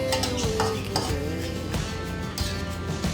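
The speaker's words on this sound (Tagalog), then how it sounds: "nakalagay na po yung fish fillet natin. So, haluin po siya. Dahan-dahan lang para hindi maano yung fish fillet." Fish fillet being gently stirred in a pan as it sautés, a continuous soft scraping and rustle of utensil against cookware with faint sizzling underneath, steady and close, no voices.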